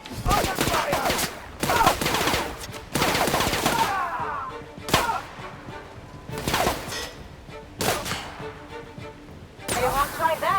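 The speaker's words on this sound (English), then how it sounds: "Incoming! Under fire!" Bursts of automatic and single-shot gunfire from The Outer Worlds video game, sharp cracks repeating in clusters over game sound and a character's voice.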